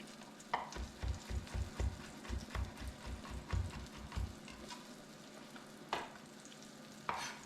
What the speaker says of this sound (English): If it starts sizzling like that, it's ready. Here goes our pork chop.